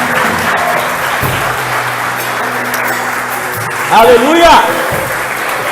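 A church congregation bursts into a short burst of applause near the end, loud and close, after a preacher speaking in Portuguese over background music, with a shouted exclamation during the clapping.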